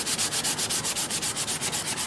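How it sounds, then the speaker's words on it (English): Wood sanding on a custom quilted mandolin, a rapid rhythmic scratchy rasp of back-and-forth strokes about seven per second, close and steady with no one talking. "did I ever tell you how much sanding there is to building an instrument?"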